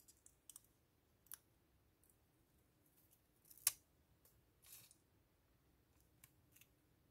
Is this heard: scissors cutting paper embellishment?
yes